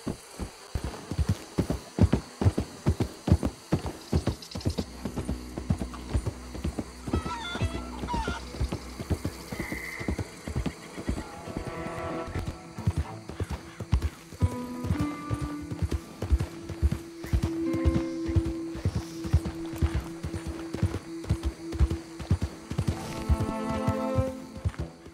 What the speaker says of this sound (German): Da reiten wir mal hin.